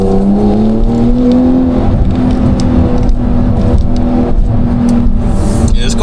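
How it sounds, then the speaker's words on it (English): A Porsche engine accelerating from inside the car, a loud sustained drone whose pitch climbs steadily over several seconds, with road and wind noise underneath. "Yeah, this car is plenty fast."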